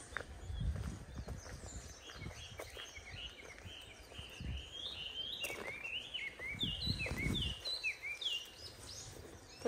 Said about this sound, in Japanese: 聞こえますか鳥の声。